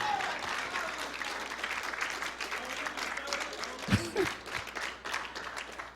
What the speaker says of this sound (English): Oh, y'all can clap better than that,